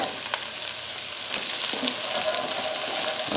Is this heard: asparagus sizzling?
yes